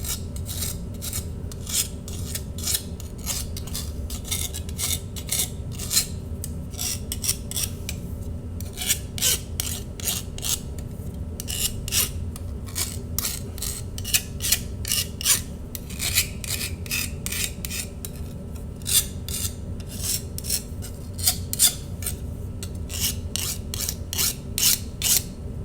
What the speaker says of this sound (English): Once you file all the way around both sides, and it doesn't need a lot.